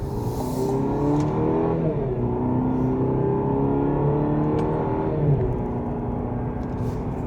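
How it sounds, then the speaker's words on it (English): Cadillac CT5-V with a twin-turbo V6 accelerating hard, a loud close engine roar climbing in pitch through quick gear changes, heard alone without talk. "when you get the Cadillac CT5V, with the twin turbo V6, that thing pulls pretty hard, and it is kind of exciting to launch that car"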